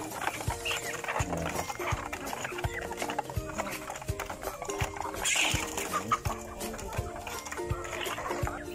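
Native chickens cluck and call repeatedly close by in a backyard farmyard, with scattered knocking and shuffling sounds of a busy yard and no talking.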